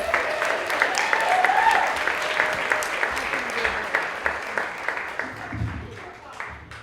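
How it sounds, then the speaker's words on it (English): Steady applause from a festival audience, a dense wash of clapping that slowly thins out, with a voice speaking over it. "round of applause for Savannah Erasmus."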